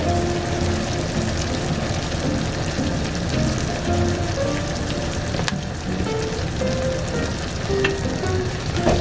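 Whipping cream poured into a hot pan on lowered heat during home cooking sizzles and fries steadily, a dense continuous crackle close by with no talking.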